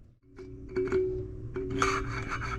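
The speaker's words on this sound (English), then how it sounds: "hear how rough that is. There's no bearings or anything in there." A scooter wheel with no bearings spins roughly, giving a grinding, rasping rub with a steady low hum, fairly close and continuous over a few seconds, with no talk.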